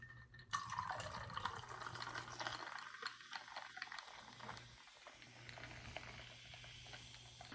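Fresca soda poured into a Puckery Pear cocktail of melon, pear and grapefruit, a steady fizzing splash and trickle running for several seconds with brief gaps, close and fairly quiet.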